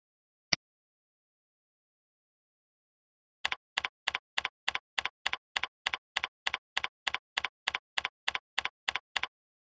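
Typing a mail server name on a computer keyboard: one isolated click, a pause, then a fast, even run of about eighteen crisp keystrokes, close and clean against silence.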